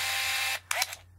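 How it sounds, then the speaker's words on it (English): An Olympus Mju II 35mm film camera fires its shutter after a whirring hiss, giving a couple of quick close mechanical clicks and a brief motor whine, then quiet. "I'm going to say now when I press the shutter."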